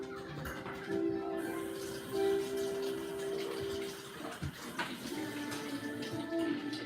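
A tap runs quietly to fill water for pets, a soft continuous trickle with small splashes and shifts in flow throughout.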